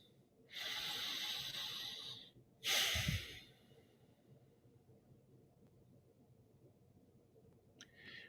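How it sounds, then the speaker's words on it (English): During a guided meditation, a deep, close breath is drawn in through the nose for about two seconds, followed by a heavy breath out after a brief pause, then quiet. "let's all get a big breath"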